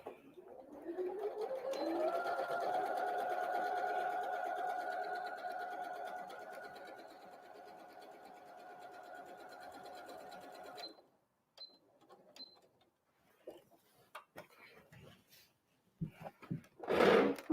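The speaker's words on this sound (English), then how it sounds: "So I'll go ahead and sew this one. Again, just leaving that opening." A sewing machine stitching the seam of a fabric Christmas tree napkin, a steady close whirring hum that runs for about nine seconds, then stops, followed by faint handling clicks and fabric rustle.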